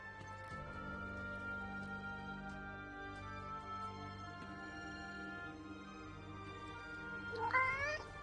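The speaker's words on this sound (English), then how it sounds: "Hey, that cat." A cat in the video game Forspoken meows near the end, a short rising wavering call over steady game music and ambient hum.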